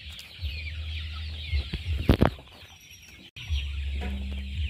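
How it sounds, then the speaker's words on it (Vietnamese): Chickens on a poultry farm of about 700 square metres holding 300 birds cluck steadily at moderate distance, with a few louder clucks and squawks rising in the middle, no talk. "700 mét vuông để mình nuôi 300 con gà này ha."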